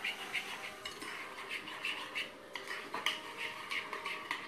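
A homemade natural body scrub mixture is stirred in a bowl, giving soft repeated scraping and clinking strokes in an uneven rhythm, quiet and close with no talk.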